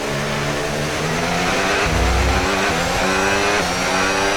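F1 race car in a Formula 1 video game braking and then accelerating again, a loud high engine whine that drops in pitch, thumps through a downshift and climbs back up in repeated gear steps.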